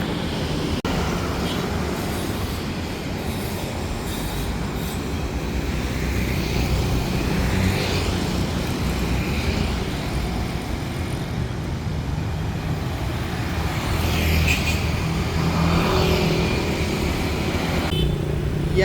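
Busy street traffic in Denpasar, Bali, with scooters and motorbikes passing in a steady, loud wash of engine noise, a few louder passes rising above the constant roar.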